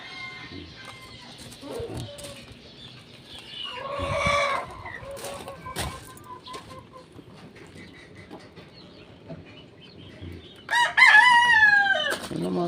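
Roosters crowing and hens clucking on a farm, with scattered soft clucks and rustling early on, a louder crow around the middle, and a strong, close cock-a-doodle-doo near the end.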